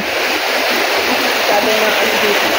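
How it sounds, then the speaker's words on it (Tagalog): Water rushing steadily from a spring-fed flow in a Hong Kong setting, a loud continuous wash with faint voices talking underneath. "Ay, tubig pala to."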